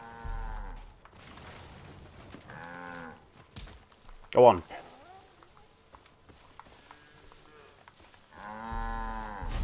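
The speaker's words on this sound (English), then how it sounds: "The cow snuck up on him." Cattle moo repeatedly in Far Cry 5, several long low calls spaced across the scene, with a brief thump and someone speaking briefly in between.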